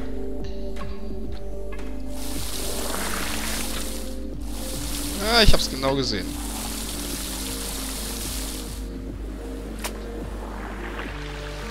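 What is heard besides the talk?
water pouring into tanks in the video game Vessel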